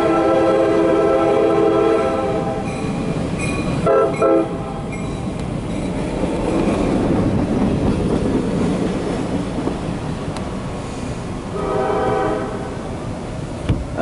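A CSX local mixed freight train (D786-10) hauled by EMD locomotives passes close by, its horn sounding loud, sustained blasts at the start and again near the end over a steady rolling rumble of wheels and cars.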